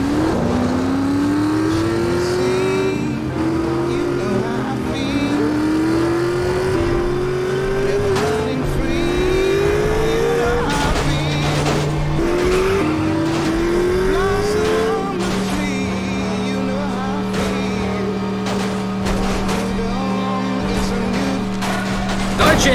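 A car engine in the World War II era game The Saboteur revs up through repeated gear changes, rising whines stepping upward, then holds a steady drone as the car cruises on, loud and continuous throughout.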